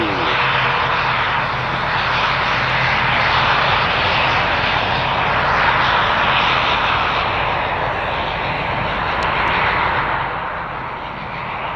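ATR 72 turboprop engines at Madrid Barajas Airport, a loud, steady drone that holds for the whole stretch and eases slightly at the end, with no voices.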